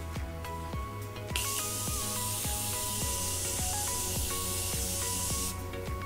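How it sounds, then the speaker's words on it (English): Makeup setting spray misted over a freshly made-up face in one long continuous hiss of about four seconds, close to the microphone, over a quiet, slightly noisy room. "I am gonna go in now with a layer of setting spray"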